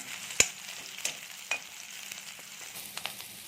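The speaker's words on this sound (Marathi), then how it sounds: "कांदा तांबूस रंगाचा होईपर्यंत परतून घ्यायचा आहे" Onions frying in a pan until golden brown for Malwani chicken sukka, a soft steady sizzle broken by several clacking stirs of a spoon against the pan, close and fairly quiet.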